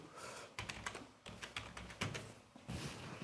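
Computer keyboard typing during a login at a terminal, with clustered rapid keystrokes in short bursts and brief pauses, close and fairly quiet, with no speech.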